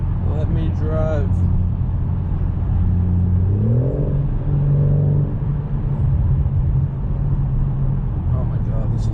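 BMW M4 Competition driven on the road, a loud, steady engine drone with a rising rev partway through, close and continuous, with a person speaking briefly at the start.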